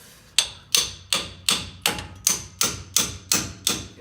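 A pickle fork is driven with a hammer between the spindle and steering knuckle of a seized ball joint, giving ten sharp, evenly spaced metallic blows, close and loud, with no talking.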